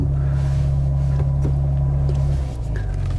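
A BMW M3 G80 Competition xDrive sedan pulling away from a standstill on a street, a deep steady engine drone heard from inside that shifts pitch as it starts moving.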